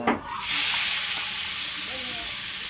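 Meat hits a hot pan and sizzles loudly, a bright, steady frying hiss that swells after a brief stir at the start and then holds close and constant.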